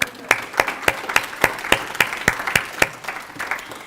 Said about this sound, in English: please, give yourselves a round of applause for coming back and being with us this weekend